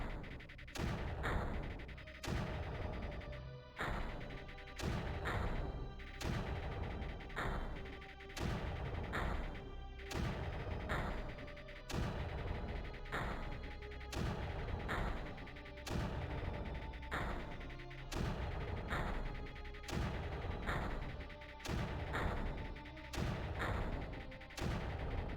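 Mortar fire in the strategy video game Creeper World, heard as a steady run of sharp, booming launch thuds repeating every second or so for the whole stretch, loud and close, with no voices.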